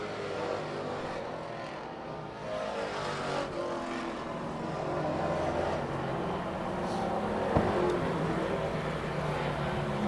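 Race cars roar down the backstretch of a short track in a continuous distant engine drone that swells and fades, with crowd and ambient noise underneath.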